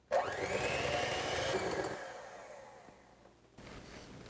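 A kitchen mixer beats eggs into banana bread batter at medium speed, a steady close whir that slowly drops in pitch and then stops briefly before starting again.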